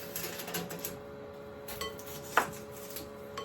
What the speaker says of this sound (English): And then I'm going to give that a stir round